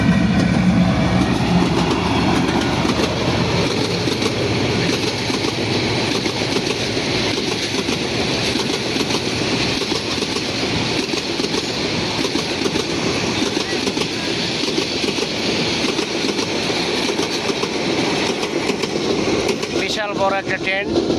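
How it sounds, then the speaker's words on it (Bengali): A long train rushes past toward Dhaka with a steady, loud rumble and a continuous clickety-clack of wheels on the rails. A voice is heard over it. "এই যে ট্রেনের ঝকঝকা ঝকঝক ঝকঝকা ঝকঝক এই আওয়াজটা"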